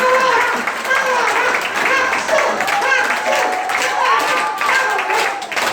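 Audience clapping together at a church neighborhood-invitation gathering with a ventriloquism act, sustained and fairly loud throughout, with voices and chatter mixed in.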